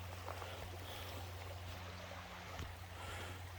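A salmon creek in Flaming Geyser State Park flows with a faint, steady wash of water heard from a little distance, alone and unbroken.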